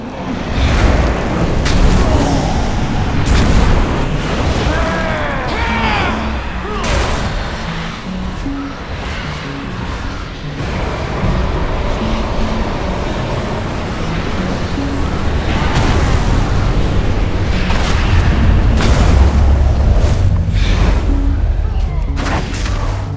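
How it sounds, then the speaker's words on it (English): Umbral detonation explosions during a solo World of Warcraft Aberrus raid fight, a long stretch of loud rumbling booms and crackling blasts layered over dense battle noise, with no clear talk. "drop your Umbral detonation near it"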